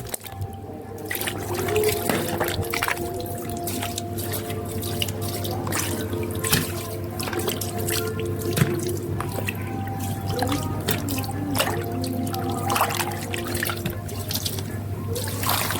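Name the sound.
washing green chillies under running tap water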